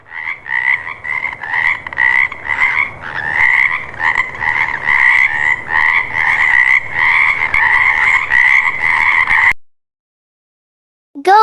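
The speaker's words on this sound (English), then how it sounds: "Frog." A frog croaks in a fast, steady run of raspy pulses, loud and close, for about nine seconds before cutting to silence, then a brief new sound begins at the very end.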